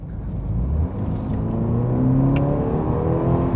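A BMW 320i xDrive with M package pulls away in standard mode under gentle throttle, its engine hum rising smoothly and steadily up close from inside the car, with no talk.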